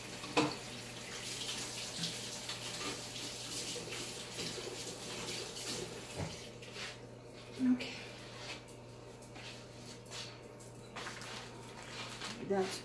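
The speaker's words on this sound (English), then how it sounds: "let me wash my hands" Tap water runs steadily into a sink while hands are washed in a home kitchen, with splashes and rubbing that come and go and a few louder knocks, as a person talks over it.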